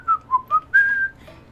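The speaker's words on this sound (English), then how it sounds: "Hikari just randomly walked by, humming and whistling" A character in a visual novel game whistles a short tune, four clear notes with the last one held, close and alone.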